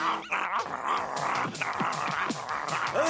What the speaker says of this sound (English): That loudmouth mutt is giving me a headache.